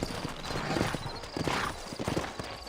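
Horse hooves clip-clop in Red Dead Redemption, a steady rhythmic trot on dirt, fairly close, with faint ambient noise around it.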